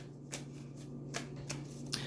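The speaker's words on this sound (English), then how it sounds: "So as I continue to shuffle and get prepared for your video," Tarot cards being shuffled close up, several soft riffling bursts in quick succession against a quiet background with a low steady hum.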